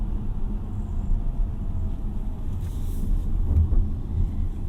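Steady low road rumble and tyre noise inside a Hongqi E-QM5 electric car driving at about 40 km/h, a smooth continuous drone with slight swells and no talking.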